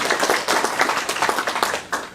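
Brief burst of applause at an award ceremony for a peace prize, a fairly close crowd clapping vigorously and unevenly for about two seconds.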